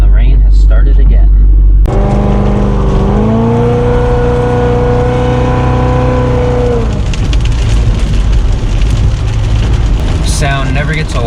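A supercharged Corvette engine on a rainy day roars loud and close, its pitch climbing steadily through a hard acceleration before the note levels off into steady road and tire noise on wet pavement.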